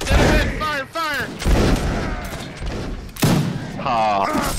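Musket volley fired by a line of troops in a Napoleonic-era battle game, a burst of gunfire with rumbling booms layered under loud shouting voices.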